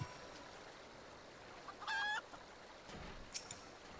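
Clucking from a chicken in Final Fantasy XIV, heard as a short bright burst of stacked clucks at mid-clip, loud against a faint game ambience, followed by a couple of softer chirps.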